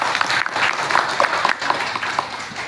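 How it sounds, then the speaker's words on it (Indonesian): A seated audience at a book discussion event applauds a speaker, giving close, moderately loud, continuous clapping that holds steady through the whole stretch. "Tepuk tangan untuk beliau."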